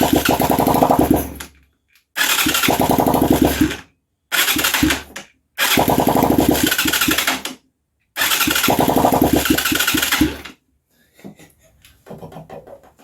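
A Huaniao HN125 Chinese motorcycle engine fires up in five loud, close bursts of rough, popping running, each cutting off into silence, then gives a few faint sputters at the end.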